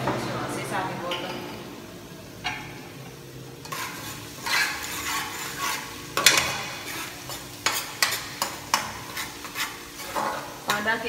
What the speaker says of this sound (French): Pendant que ça va frire